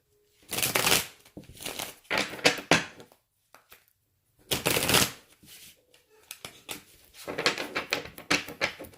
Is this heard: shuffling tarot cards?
yes